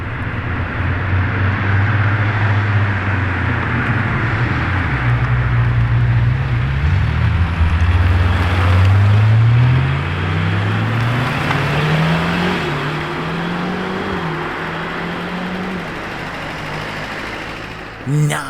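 A Lamborghini Urus SE engine drones close by while driving, its pitch sweeping upward through several gear pulls as it accelerates, then settling into a lower steady cruise, with voices murmuring faintly underneath.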